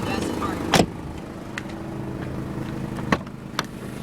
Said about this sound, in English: The car's kind of loud.